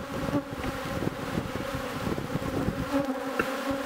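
Honeybees buzzing over a hive frame during beekeeping, a steady close, dense drone of many insects with no talk.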